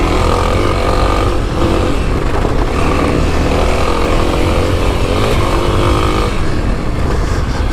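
A 2021 Kawasaki KLX300 dirt bike runs hard on an off-road trail in low gears, its single-cylinder engine buzzing loudly and continuously up close with shifts in pitch as it climbs and pulls.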